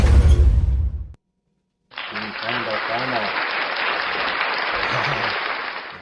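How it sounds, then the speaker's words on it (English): Crowd at a mixed doubles curling provincial championship bursts into loud, sustained applause and cheering after a shot, following a brief burst of nearby talk and a short silence. "The crowd goes wild."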